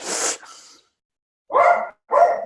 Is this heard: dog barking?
yes